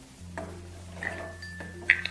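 Fried vadi being moved from the pan into a pot while cooking Bengali shukto, with a few light metallic clinks and scrapes of utensil on cookware, sparse and close over a quiet background hum.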